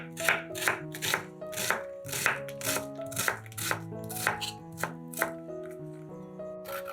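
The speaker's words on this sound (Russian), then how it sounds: "Одну луковицу нарезаем кубиками." Onion being diced with a knife on a board for a filling, a steady series of crisp, close chopping strikes in quick rhythm, heard over soft background music.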